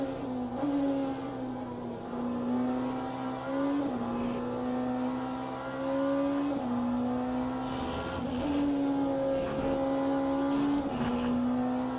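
Sustained engine drone of a Porsche race car running at high speed in a racing video game, steady and loud throughout, with slight pitch dips at gear changes or corners.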